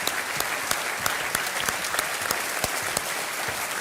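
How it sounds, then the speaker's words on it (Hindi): Studio audience on a televised quiz show applauds a winner, a loud, dense burst of many clapping hands with sharper individual claps popping out above the steady roar. "तालियों के साथ इनका अभिनंदन।"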